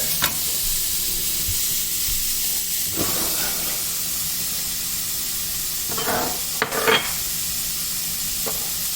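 Vegetables searing in a pan over high heat, a loud, steady hiss of frying throughout, broken by a few brief stirring scrapes and bursts of spattering.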